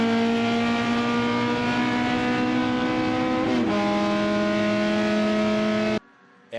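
Race cars roar down the front stretch at Lime Rock, a loud sustained engine drone with a brief gear-shift dip midway before cutting off abruptly near the end.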